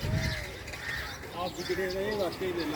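Sparrows chirp at an outdoor Sikh shrine, small high tweets scattered under nearby talking voices.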